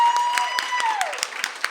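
An audience applauds author Sarah Gailey at a book event, brisk scattered clapping with distinct sharp claps, while a tonal whistle-like sound glides down beneath it.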